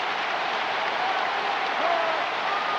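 A stadium crowd in the NFL 2K3 football video game, in a steady, dense roar of cheering and applause that holds for the whole stretch without a break.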